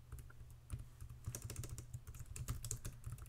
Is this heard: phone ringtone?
no